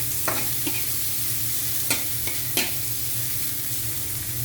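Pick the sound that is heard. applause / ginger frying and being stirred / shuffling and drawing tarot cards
ginger frying and being stirred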